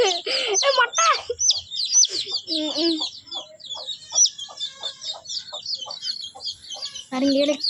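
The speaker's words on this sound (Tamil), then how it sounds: "இதுதான் மொட்டை கழுத்து கோழி." Naked neck chickens cluck and chirp in a flock, a steady run of short calls near and far with louder bursts at the start and end, mixed with some higher bird tweets.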